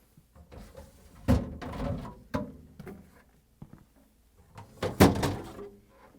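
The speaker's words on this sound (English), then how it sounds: "Then we're going to pull out both drawers." Plastic refrigerator drawers on a GE fridge slide out and knock with a few sharp clunks and rattles, separated by quiet pauses, close by.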